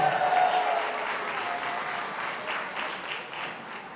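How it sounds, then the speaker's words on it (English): Sustained audience applause fills a wedding walima reception at Whites Ferry Manor, a dense wash of clapping that stays loud throughout and slowly eases toward the end. "Ladies and gentlemen, give them one more big round of applause."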